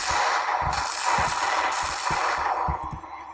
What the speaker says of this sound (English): Oh! It's that explosion.